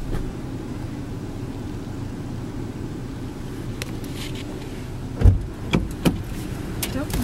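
A Honda CR-V driving on the road gives a steady low cabin hum, then a few sharp knocks and clicks near the end, with faint voices.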